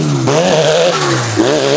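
A Nissan S13 240 car engine pulls hard under acceleration, a loud, close, steady rising drone with a brief dip and renewed surge near the end, no talking over it.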